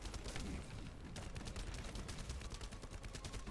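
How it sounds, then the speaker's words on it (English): Rapid, continuous video-game gunfire with dense overlapping shots and bursts, loud and steady throughout with no talking. "the sound of the guns in this game is quite relaxing."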